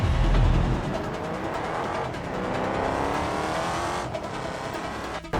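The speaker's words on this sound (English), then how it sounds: "They were racing down the road with no regard for safety." Race cars in the BeamNG Drive video game speeding down a road, a loud continuous engine roar with rising revs and tire noise throughout, a brief dip near the end.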